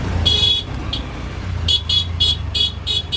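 In a traffic jam near a petrol pump, one car horn sounds twice in short blasts, then a run of five quick rhythmic toots, over a low idling engine and road rumble.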